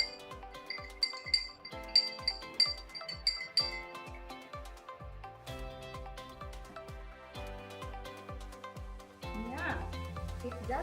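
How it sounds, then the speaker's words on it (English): A spoon stirs half a tablespoon of powdered orange juice into a full glass of water, making quick, rhythmic glass clinks for a few seconds over steady background tones, which then carry on alone. "I add 1/2 tablespoon of powdered orange juice in a full glass of water"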